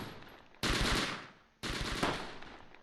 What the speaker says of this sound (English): what's the machine gun fire?